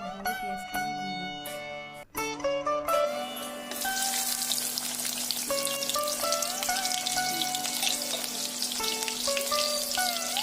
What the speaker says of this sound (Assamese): তেলখিনি ভালদৰে গৰম হোৱাৰ পাছত আদা, নহৰু, পিঁয়াজখিনি দি দিম।